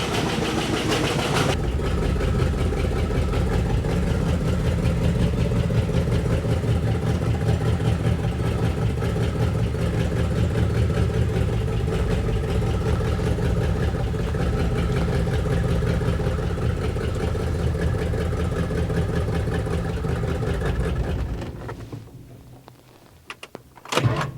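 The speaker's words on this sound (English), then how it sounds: "That lifter tick did not go away." A car engine idles steadily with a light, rapid lifter tick riding over the low rumble for about twenty seconds, then the engine cuts off and the sound falls away near the end.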